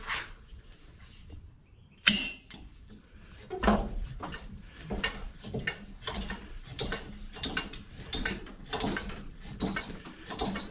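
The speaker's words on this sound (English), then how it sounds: "it takes a few pumps to get that tote of wood up" A hand-pumped lift raising a tote of wood for a drawbridge build gives a rhythmic series of repeated creaks and clunks, roughly evenly spaced, close by, with a sharp knock near the start.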